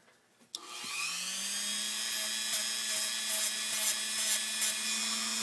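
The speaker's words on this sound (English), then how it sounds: "And this has just got a sanding wheel on the Dremel." A Dremel with a sanding wheel deburrs the edge of a bone button. The tool spins up abruptly and holds a loud, steady high-pitched whine, with light scraping ticks as the wheel meets the bone.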